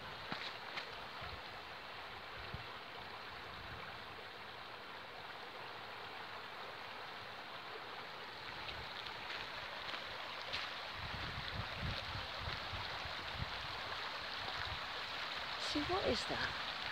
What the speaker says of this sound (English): There's a lot of water coming down off the hills.